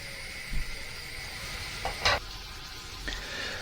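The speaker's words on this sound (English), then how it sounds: "Now we're going to let this simmer for about 10 minutes, by which time our onion mixture will also be about ready." An onion mixture for wild rabbit jalfrezi simmers in a pan with a steady bubbling sizzle. Brief louder scrapes of stirring cut in now and then, heard alone without talk.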